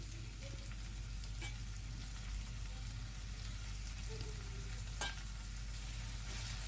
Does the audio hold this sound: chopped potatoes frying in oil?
yes